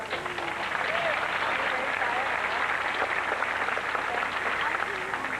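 An audience at a Universal Studios stunt show gives a big, steady round of applause welcoming stuntman Lance Rimmer, dense clapping sustained throughout with faint voices mixed in.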